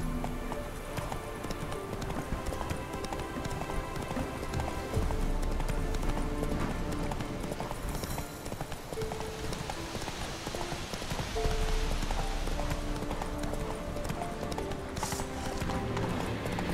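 Hooves of the horse Roach galloping in The Witcher 3, a fast continuous clip-clop drumming under a wash of game ambience and possible rain, steady and moderately faint throughout.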